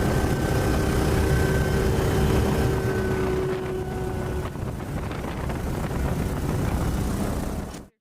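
Helicopter cabin noise with a steady tonal engine whine that fades partway through as the rotors are disengaged, leaving a rougher, lower rumble that continues until the sound cuts off.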